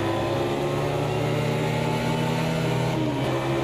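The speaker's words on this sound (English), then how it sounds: "I can hear the other cars around me and the distinct sounds" Race cars in Automobilista 2 drone steadily nearby, a loud continuous engine roar with layered tones that shift slightly in pitch toward the end, no talking.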